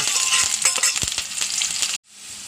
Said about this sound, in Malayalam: ചട്ടി വെച്ചു എണ്ണ ഒഴിച്ചു എണ്ണ കാഞ്ഞു ഉള്ളി ഉൾക്കുള്ളി ചോന്നുള്ളി